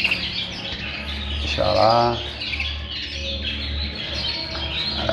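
Young canary chicks at a breeding aviary give high, thin chirps that run throughout, close by and fairly steady, while someone talks over them.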